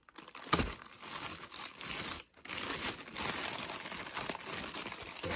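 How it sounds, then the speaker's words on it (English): Plastic packaging on a 1993 Playmates Star Trek Next Generation Transporter Room toy crinkles and tears as it is cut open, close and fairly quiet, with irregular crackling bursts and a short pause midway. "go ahead and cut through that plastic"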